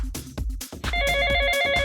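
A telephone rings with a bright, steady bell tone that starts partway in and holds loud and close to the end, preceded by a few low thumps.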